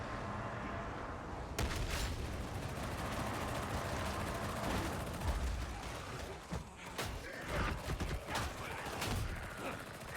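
The Ogryn's Ripper Gun in Darktide fires dense bursts amid a loud, continuous din of game combat, booms and clatter, with a voice talking at times.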